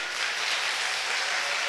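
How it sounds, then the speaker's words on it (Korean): A church congregation at a Friday Holy Spirit prayer service applauds as a dense, even wash of clapping, with no voices rising above it. "우리 뜨겁게 박수!"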